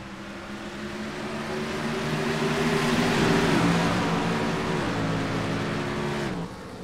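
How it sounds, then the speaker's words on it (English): Race cars at Richmond International Raceway roar close and loud in a continuous, rising-then-falling engine drone with shifting pitch as a pack races side by side, with no speech. "Kent Thomas and Paul Brown racing for the same real estate"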